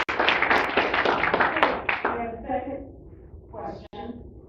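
An audience at a school board candidates' forum claps in a short burst of applause that fades out within a couple of seconds, followed by a speaker's voice.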